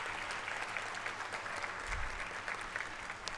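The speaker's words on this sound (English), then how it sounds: "All of you may please applaud for the degree recipients of Master of Architecture Conservation degrees." Audience applause for Master of Architecture Conservation degree recipients at a university convocation in Bhopal, a steady dense clapping from a large crowd heard at moderate distance, sustained evenly for a few seconds.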